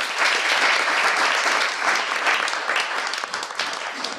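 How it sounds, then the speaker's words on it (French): Steady, dense applause from an audience at a Wikimedia culture and digital event, filling the room evenly from start to finish with no voices rising above it. "Vous pouvez les applaudir."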